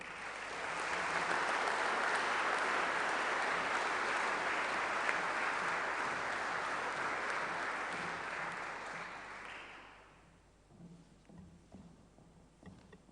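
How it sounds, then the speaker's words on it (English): An audience applauds at the 2013 Australia Day Address, a dense, sustained round of clapping that fills the room for about ten seconds before fading into scattered claps and faint murmurs. "Another round of applause for them both, please."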